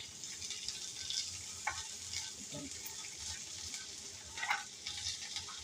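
Garlic, cashews and spring onions shallow-fry in a pan with a soft, continuous sizzle and occasional stirring clinks, fairly quiet and close, with no talking.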